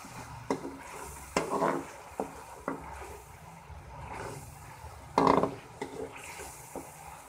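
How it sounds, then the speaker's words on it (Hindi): Chicken frying in a pan for spaghetti, a soft steady sizzle under repeated clanking scrapes of a spoon stirring against the pan, with a few louder knocks, close up. "आप इसको अच्छे तरीके से भून लें।"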